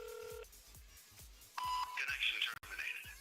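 Electronic phone call tones in a chat application, a steady beep then a rising ringing tone with warbling higher tones, fairly clear and close, with faint voice sounds beneath.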